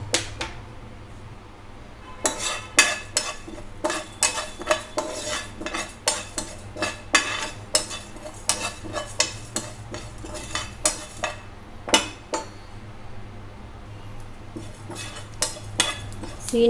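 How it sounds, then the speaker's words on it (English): Whole fenugreek and cumin seeds dry roasting in a pan for an eggplant curry, a spoon scraping and clinking against the metal in repeated uneven strokes over a low steady background hiss, close and fairly loud. "have to dry roast them for 1 minute. And occasionally we have to sort them like this"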